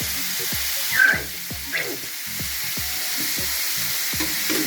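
Pork and liver stir-fried with garlic and oyster sauce sizzle steadily in a hot pan, with a regular rhythm of spatula scrapes and stirs cutting through the close, continuous frying hiss.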